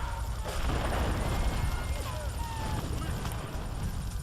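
In the video game GTA 3, a steady, dense rumble of explosions and gunfire-like blasts fills the scene, loud and continuous throughout.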